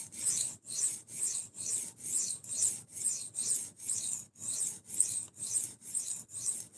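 A knife blade strokes across a sharpening stone in a steady rhythm, about a dozen even rasping passes close to the microphone with no voices.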